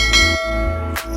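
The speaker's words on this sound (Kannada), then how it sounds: "ಸಬ್ಸ್ಕ್ರೈಬ್ ಮಾಡಿ, ಬೆಲ್ ಬಟನ್ ಕ್ಲಿಕ್ ಮಾಡಿ" A notification bell sound effect rings out twice in quick succession, each bright metallic chime clear and close with a short ringing tail and no voices.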